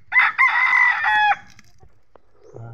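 A brooding farm hen gives a loud, drawn-out crowing call, then falls quiet before a short low cluck close by.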